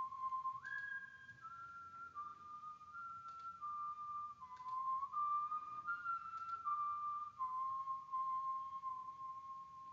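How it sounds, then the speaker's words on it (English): Several layers of human whistling carry a slow melody together, the tones sliding between notes, clear and fairly quiet with no voices. "it's just a couple of layers of me whistling."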